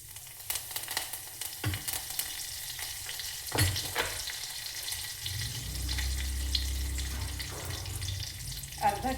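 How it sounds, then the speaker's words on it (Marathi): Mustard seeds, cumin and curry leaves sizzle and crackle in hot oil for a Nagpuri Saoji-style brinjal dal, with sharp pops and stirring clatter over a steady frying hiss, close and moderately loud. "तेल तापलेलं आहे, मोहरी टाकली, जिरं टाकत आहे आणि हा कढीपत्ता."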